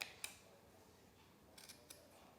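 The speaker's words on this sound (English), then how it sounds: "I'm going to make just a cut, about a 1/2 inch cut" Scissors snip a short cut into folded deco poly mesh near a glued edge, giving a couple of brief, crisp clicks at the start and a few lighter snips later, quiet and close with no talking.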